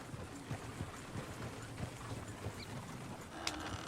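Horse hooves clop in a steady rhythm in the Red Dead Redemption 2 video game, close and continuous under low ambient game noise, with no talk.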